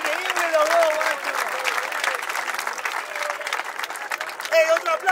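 Crowd applause at a freestyle rap battle during a national final, steady clapping with shouts from the audience and a voice calling out over it.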